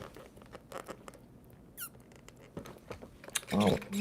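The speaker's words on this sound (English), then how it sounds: "my straw is squeaky today" A plastic drinking straw squeaks briefly, a short rising chirp sounding once in a quiet room between light handling noises and breaths, with a voice briefly heard near the end.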